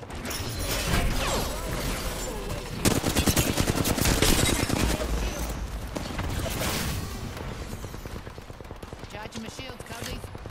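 Rapid automatic gunfire bursts in the video game Apex Legends, loud and dense with mechanical clatter, continuing through most of the stretch while a player speaks briefly over the shooting.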